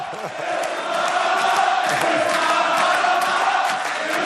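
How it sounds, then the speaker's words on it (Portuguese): Football supporters outside a stadium, with fireworks going off, make a sustained roar of massed voices like chanting and cheering that holds steady for several seconds. "A torcida está do lado de fora, com fogos de artifício e tudo, fazendo muita festa."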